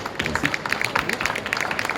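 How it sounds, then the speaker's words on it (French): An audience applauds steadily, a dense patter of many hands clapping at moderate volume throughout. "Je crois que ça s'applaudit aussi parce que c'est un sacré boulot."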